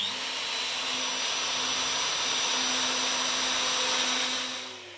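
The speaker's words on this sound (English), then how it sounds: "So I'm going to use a router. I'm using the smallest router bit I've got." Electric router fitted with a very small bit cutting into wood, a steady high whine with a broadband rush held for several seconds, close by, then tapering off at the end.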